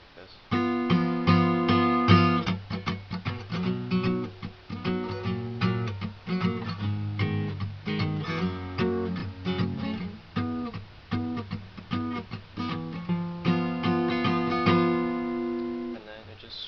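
Close acoustic guitar chords from the bridge of a song ring out in a strummed pattern, with a brief quiet start before the playing settles into a steady rhythm.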